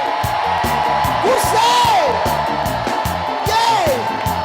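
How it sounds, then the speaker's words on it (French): A church congregation at a lively worship service shouts and cries out in joy over steady, loud amplified music with a thumping beat, and whooping voices rise above the band. "Poussez des cris de joie."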